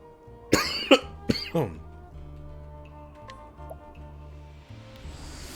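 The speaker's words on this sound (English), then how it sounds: "Yay, still coughing." A person coughs several times in a close, harsh cluster of four or five bursts, then falls quiet, over steady background music and hum.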